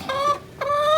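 Chickens in a backyard chicken run give two drawn-out, tonal clucks in close succession, nearby and fairly loud, with no talking over them.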